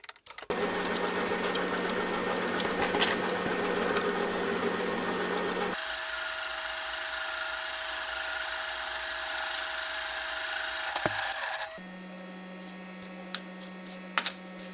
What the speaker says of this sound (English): plunging in with an end mill creates an almost flat bottom